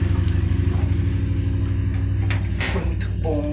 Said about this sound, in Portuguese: teve barulho aqui de moto